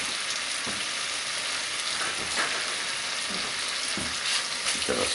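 Garlic and greens sizzle in hot oil in a pan, a steady crackling fry with occasional louder scrapes and bumps as they are stirred, no voices over it.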